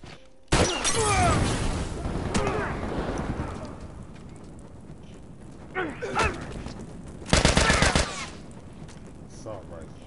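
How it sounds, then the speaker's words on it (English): Assault rifle fire in a The Last of Us multiplayer match: a sharp opening burst, scattered shots and crashes, then a second loud rapid burst near the end. A voice speaks intermittently between the shots. "So you got killed by your own fire, stupid. Assault rifle is a bitch."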